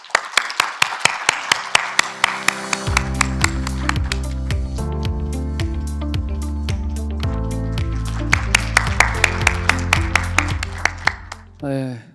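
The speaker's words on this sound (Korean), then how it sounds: "큰 박수로 맞아 주시기 바랍니다" Rhythmic clapping comes from the crowd at a Korean university presidents' council inauguration and farewell ceremony, steady and continuous over background music before fading out at the end.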